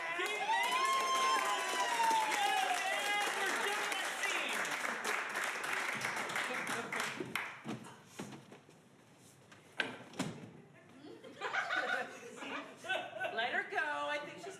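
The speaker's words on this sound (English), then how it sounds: "You can clap." An improv comedy show audience bursts into applause and cheering, which stays full for several seconds before thinning into scattered claps, with voices and laughter rising again toward the end.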